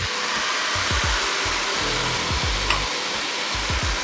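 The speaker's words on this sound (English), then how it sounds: "and we add the wine" Wine poured into a pan of buckwheat risotto hisses and sizzles in a steady, loud wash, with low stirring scrapes and bumps underneath and no voices.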